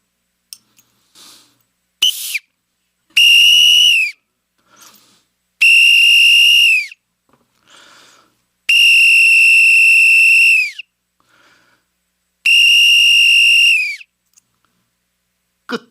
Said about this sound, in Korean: 목사님이 여러분을 위해서 호루라기를 오늘 다 준비했어요